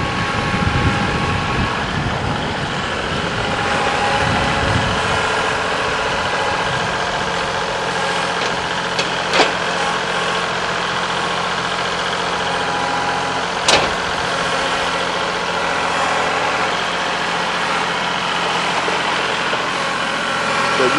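A Kubota compact tractor idles steadily at a gravel driveway work site, a continuous low mechanical rumble holding even throughout with a couple of brief sharp knocks partway through.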